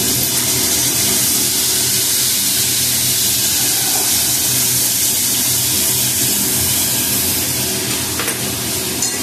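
Ghee sizzles and hisses loudly in a pan with egg and green chillies, a dense, continuous frying crackle lasting the whole stretch with faint stirring, no talking.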